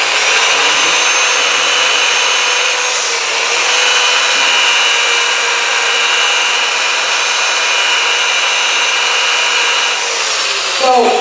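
Power sanding with grit pads, a loud, steady high-pitched whine and grinding that runs continuously throughout at close range, with faint voices underneath.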